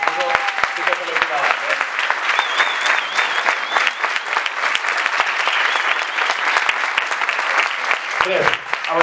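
Sustained applause from an audience at a political youth assembly of Joves Esquerra Unida del País Valencià, steady and dense for the whole stretch, with a few voices and whistles mixed in and some talk near the end.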